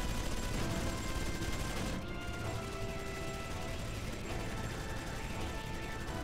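Rapid automatic gunfire in the game Xenosaga Episode I, a dense, loud, continuous rattle of shots with mechanical clatter that runs without a break.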